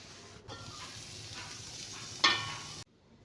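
Vegetables fry in a pan before water and Maggi noodles go in, a soft, steady sizzle with a stirring scrape that cuts off abruptly near the end.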